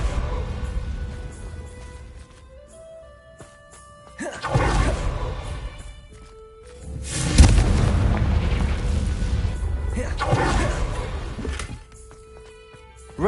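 Confringo fire spells burst in Hogwarts Legacy, three loud booming explosions spaced a few seconds apart. Each one swells and rumbles off over quiet game ambience, and the middle blast is the heaviest, with no talking.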